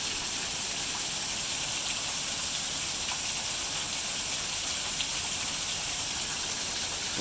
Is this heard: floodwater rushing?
yes